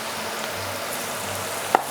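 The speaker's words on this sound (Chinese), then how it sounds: "先把蒜泥炒香" Minced garlic and ginger stir-fried in a wok, a steady soft sizzle running throughout with one brief sharp clack near the end.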